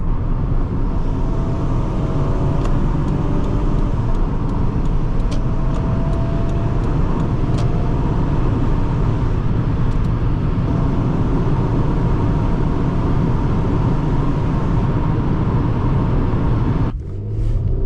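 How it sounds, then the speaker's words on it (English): A 1999 Toyota Camry LE V6 engine pulls steadily as the car accelerates, a loud continuous rumble with road noise heard from inside the cabin, cutting off briefly near the end. "Today, we're driving a 1999 Toyota Camry LE V6 on our channel."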